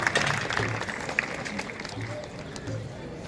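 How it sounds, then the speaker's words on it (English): An outdoor crowd at a Patiala heritage week event applauds representatives of the Indian Army, a mid-distance patter of clapping mixed with crowd murmur and chatter, fading somewhat toward the end. "One big round of applause for everyone."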